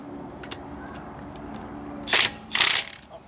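An impact wrench or ratchet loosens coilover bolts during a KW suspension install on a Toyota Celica: two short, loud mechanical bursts close together, after a stretch of quiet background.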